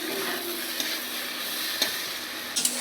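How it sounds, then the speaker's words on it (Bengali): Spice masala sizzles steadily in a pan while being stirred, with a soft continuous fry broken by a few light utensil taps against the pan. "ঢাকনাটা তুলে একটু নাড়াচাড়া করে দিতে হবে।"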